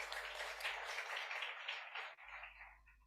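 An audience at a regional Authorised Economic Operator customs awareness session gives a round of applause, steady and fairly distant, thinning out toward the end.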